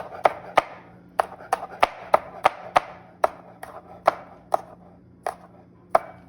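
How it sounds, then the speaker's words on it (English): A knife slices a jalapeño on a cutting board for Indian tacos, about fifteen sharp, crisp chops in an uneven rhythm, close and clear against a quiet room. "I can cut that in half again and do a small slice of the jalapeno"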